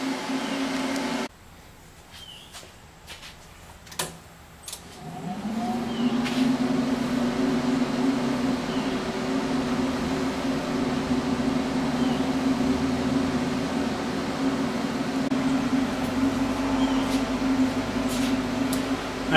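A Longevity 200SX welding machine hums steadily after being switched on, a low continuous drone with a faint fan whir that starts after a click and a brief quiet gap, then holds at a constant level.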